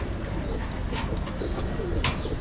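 Pigeons coo steadily at a home loft during feeding time, soft throaty calls repeating over a constant hiss of background noise, with a brief brighter chirp near the end.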